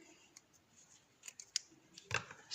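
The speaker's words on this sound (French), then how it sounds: "Je vais couper mon fil marron." Scissors snip through brown yarn during a crochet project, a few short quiet clicks followed by a louder final double cut near the end, close up with no talking.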